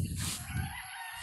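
Chickens and a rooster at a poultry farm in the Philippines, a short burst of crowing and clucking close by.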